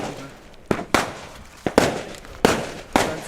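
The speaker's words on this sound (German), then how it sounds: "Nehmen jetzt die Weco und auch Keller, zünden wir jetzt einfach mal alle weg." Weco, Keller and Funke firecrackers, including D-class bangers, are set off on a street at New Year's Eve, giving about six sharp, loud bangs in quick irregular succession, some in close pairs, each with a short crackling tail.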